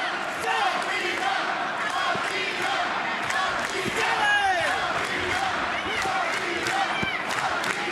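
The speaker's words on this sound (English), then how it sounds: "Crowd rallying behind the challenger." Wrestling arena crowd cheering and rallying behind a challenger, a roaring mass of shouts and clapping with scattered thumps from the ring, under a commentator's talk.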